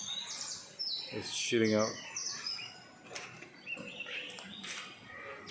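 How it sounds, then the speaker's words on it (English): A white-rumped shama songbird sings close by, letting out a burst of varied whistles and chirps followed by sparser tweets, while someone speaks briefly over it. "Another badass Shama indeed."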